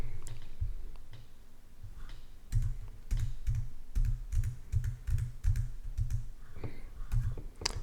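Typing on a computer keyboard while setting up an npm project, quick runs of close, crisp key clicks after a sparse start, bursts separated by short pauses, with no speech.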